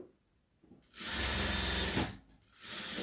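Sewing machine running a straight seam on a boat neck blouse, a steady loud whir for about a second after a quiet start, pausing briefly, then starting up again.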